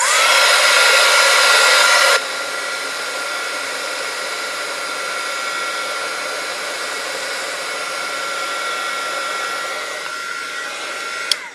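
A loud, steady blowing roar of a heat gun running continuously, louder at first, then settling to a slightly lower constant whoosh before a click near the end.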